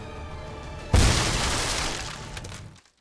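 An explosive red barrel blowing up in a Sniper Elite game, a single sudden loud boom that follows a quiet background and trails off into a roaring, crackling decay before cutting to silence.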